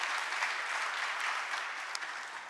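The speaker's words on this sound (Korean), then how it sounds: "박수 부탁드립니다." An audience at a government policy presentation applauds steadily, a dense, continuous wash of clapping that holds for a few seconds and fades slightly at the end, with no talking over it.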